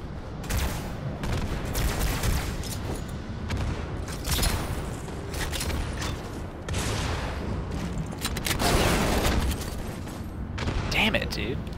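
Shotgun fire in a Halo video game, with heavy blasts and rapid bursts of shooting mixed with explosions and game noise throughout, loud and close.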